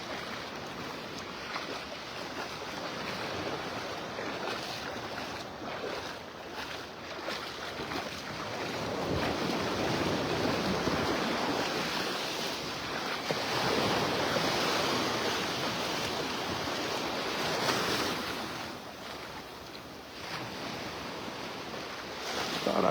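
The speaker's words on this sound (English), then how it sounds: "Maybe just the waves rippling" Ocean waves wash in steadily on a beach in north Naples, Florida, during a morning walk in the water. The surf swells and fades under constant wind rumble on the microphone.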